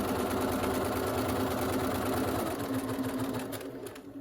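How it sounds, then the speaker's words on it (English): Sewing machine stitching bias tape onto a fabric medical face mask, a steady fast mechanical whir with a constant hum, close and loud, easing off slightly near the end. "then I add the bias tape to it and then line it up and sew"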